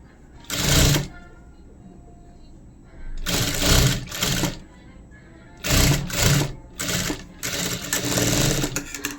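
A sewing machine stitching a blouse fabric strip runs in short rhythmic bursts of rapid mechanical clatter, four or five runs with pauses between, close and clear, with someone speaking softly in the gaps.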